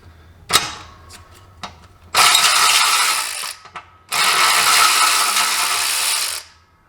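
Ratchet wrench removing nuts from the foot pedal bolts of a Kubota L2501 tractor, a few loud clicks followed by two sustained rapid ratcheting runs, close and loud.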